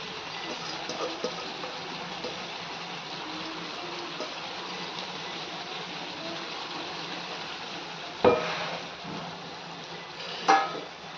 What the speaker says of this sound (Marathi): रसाळ्याला पण छान उकळी आली